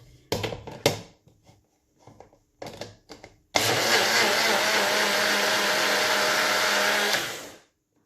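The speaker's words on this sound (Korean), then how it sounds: "믹서기에 돌려주면 됩니다" A few short bursts of a motor precede a loud, steady blender whir mixing a black sesame coffee shake, running about four seconds, then winding down and stopping.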